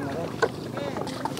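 A small boat rides on open water near an island, with lapping water and wind buffeting the microphone in a steady close wash, a brief knock partway through, and faint voices nearby.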